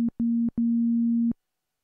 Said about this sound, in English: This is a sine wave oscillator.